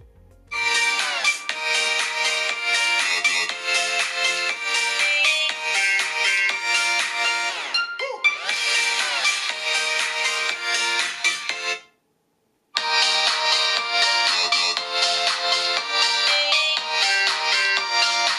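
A bright, melodic phone ringtone plays loudly through a Xiaomi smartphone's small speaker, looping twice with a short silent gap before it starts again.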